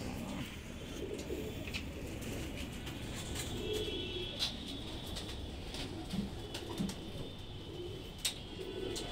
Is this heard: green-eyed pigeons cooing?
yes